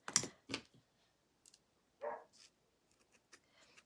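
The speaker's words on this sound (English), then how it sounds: "And so she hears me, so she's barking." A few sharp dog barks in quick succession, fairly close, followed by quieter scattered clicks and faint noises.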